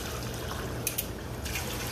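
A small battery-powered pump drives water through a home-built sluice on a Lake Superior beach, making a faint, steady trickle with a couple of soft clicks.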